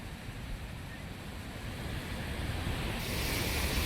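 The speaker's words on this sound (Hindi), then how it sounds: "इन मकानों के बगल से व्यास नदी बह रही है" Floodwaters of the swollen Beas river rush past houses in a steady, loud broadband roar that swells slightly toward the end, with wind buffeting the microphone and no clear talk.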